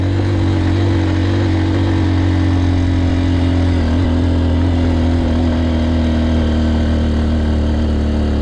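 Honda XR150L motorcycle ridden off-road in second gear, its engine droning loud and steady at close range with a slight dip and recovery midway, no speech over it.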